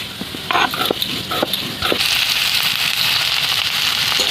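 Snake gourd pieces frying in a pan, a steady hiss and sizzle preceded by a few sharp crackles and pops, close and fairly loud with no voices.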